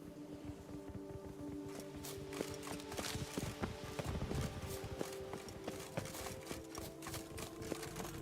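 The horse Roach in The Witcher 3 trots with a rapid, uneven clip-clop of hooves, moderately close, over faint ambient game sound.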